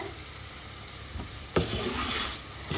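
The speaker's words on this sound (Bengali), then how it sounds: "এই যে আমি চালটা ভাজতেছি" Rice frying in a pan as it is stirred, a close steady sizzle broken by a couple of sharp scraping strokes that swell the hiss louder toward the end, with no talking.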